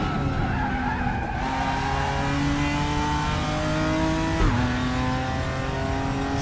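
A race car in RaceRoom during a multiclass ranked race screams at high revs, its engine pitch climbing through the gears with a sharp downshift and tire squeal, loud and continuous.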